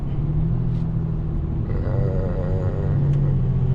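A Ram pickup truck on 35-inch tires towing a trailer along a road: a steady, loud low engine drone and road rumble from inside the cab, shifting slightly in tone partway through.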